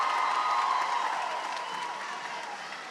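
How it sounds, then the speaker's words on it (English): Graduation-ceremony crowd at the Cleveland School of the Arts commencement claps for a performer, a broad sustained applause that gradually fades softer toward the end. "Everybody give Jade another round of applause"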